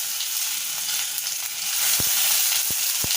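Chopped tomato steaming and cooking in oil in an Indian kadhai, a steady close sizzle with a few sharp pops and spatters near the end, no talking.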